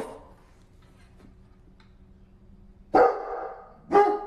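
Pet dog indoors giving two sharp, loud barks near the end after a quiet stretch with faint ticking.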